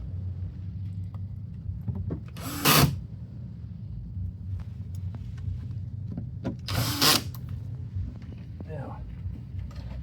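Original screws being driven back into a Suzuki Jimny JB74 door panel with a power drill during a speaker upgrade: two short, loud whirring bursts several seconds apart over a steady low background hum.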